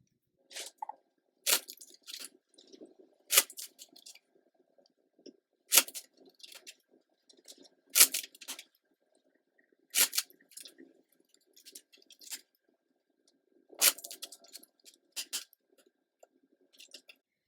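Tarot cards being shuffled by hand, heard as a series of sharp, crisp riffling bursts at irregular intervals, close and fairly quiet, with short pauses between them and no talking.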